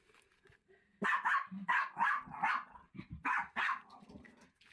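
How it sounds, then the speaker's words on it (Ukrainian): A dog barks repeatedly in quick bursts, fairly close and loud, with a few yips mixed in. "вибачте, помічниця побігла гавкати."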